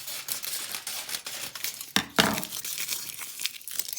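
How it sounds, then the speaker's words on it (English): Material for a tree trunk in a textured assemblage is lightly crumpled by hand, making close, continuous crinkling with a couple of sharper crackles in the middle. "And then I'm going to lightly crumple it."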